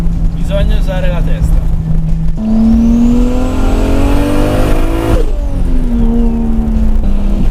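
A 600 hp single-turbo Toyota Supra accelerates hard and close, engine pitch sweeping upward through gears with sharp shifts between pulls, loud and sustained.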